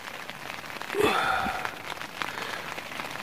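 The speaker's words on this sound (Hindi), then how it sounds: "बारिश हो रही है, अगर आपको आवाज़ आ रही हो, बारिश हो रही है" Steady heavy rain hisses throughout on a cold, foggy night, with a brief louder patter of drops about a third of the way in; no voices.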